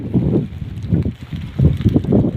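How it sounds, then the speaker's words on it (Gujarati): Strong wind with rain sweeps across farm fields in the Vidi area, arriving as heavy, rumbling gusts that buffet the microphone in repeated surges. "જોરદાર પવન સાથે હાલ અત્યારે વીડી વિસ્તારની અંદર વરસાદ પડી રહ્યો છે"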